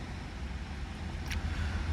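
A seven-year-old 24kWh Nissan Leaf electric car cruises along a road, giving a steady, low road and tyre rumble heard from inside the cabin, with no voices.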